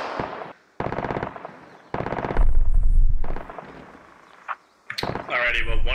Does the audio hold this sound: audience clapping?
no